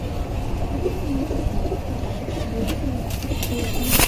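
Blue-marked working-line pigeons, including a cream-eyed bird with purple feet, coo in a low, repeated murmur close by, with some rustling and brief higher noises near the end.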